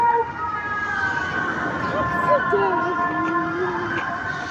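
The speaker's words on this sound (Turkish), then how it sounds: "Umay araba geliyor, ambulans geliyor." A wailing ambulance siren rises and falls steadily through the clip, with voices and background noise mixed in.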